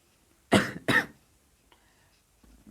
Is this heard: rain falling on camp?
no